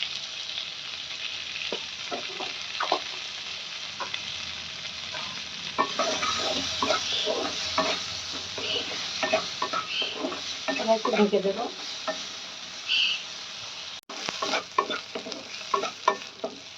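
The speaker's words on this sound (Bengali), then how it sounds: "আমার কুদরুল ভাজা হয়ে গেল" Ivy gourd (kundru) stir-frying in a pan with chili flakes gives a steady sizzle and repeated spatula scrapes and clinks throughout, with someone speaking briefly over the cooking.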